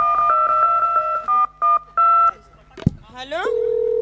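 A mobile phone plays a quick series of dialing key tones, clear and close, followed by a brief click and the start of a ringing signal.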